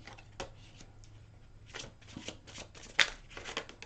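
Tarot cards are shuffled by hand in quick riffling bursts, soft close-up flutters and taps with one sharp slap as cards spill out, in a quiet room without talk.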